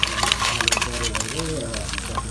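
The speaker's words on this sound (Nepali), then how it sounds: "अहिलेको फ्राई लेग पिसलाई पुरै मसलाहरू हालेर अब यसलाई मोल्नु सबै" Fried fish leg pieces being tossed and mixed with spices, a busy, close scrape and clatter with crackling sizzle underneath, continuous throughout with a few sharper clinks.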